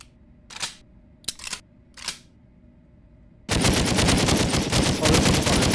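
A few sharp mechanical clicks from a gun in the game Ab Aeterno, then a dense, loud stream of rapid automatic fire from the red fire control group.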